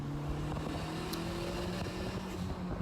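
A car with a stock engine running low boost drones steadily along a race track on street tires, a close, continuous engine hum with a sustained low tone and no voices.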